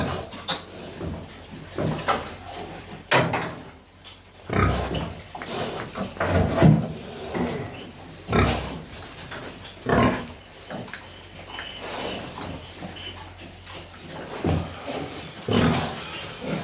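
A sow grunts on a farm in a string of short, loud pig grunts and snorts, irregularly spaced with small clatters and knocks in between, close by and with no talk over them.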